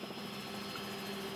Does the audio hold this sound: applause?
no